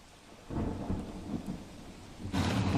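Heavy continuous rainfall in Botad, Gujarat, with a low rumble like distant thunder, swelling to a louder, fuller downpour wash near the end.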